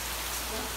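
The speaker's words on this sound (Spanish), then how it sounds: "está lloviendo" Steady rain falling outdoors, a continuous soft hiss of drops with no distinct individual splashes, fairly faint and even throughout.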